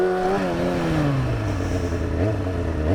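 An engine revs hard on the throttle during a rolling burnout. The pitch sweeps down, then climbs again, over a loud, continuous roar with some clatter and no voices.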